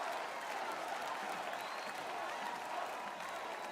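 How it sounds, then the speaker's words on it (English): A rally crowd applauds Trump, dense and continuous clapping heard from a distance at moderate volume with no break. "he's getting a bigger applause than Sean O'Brien"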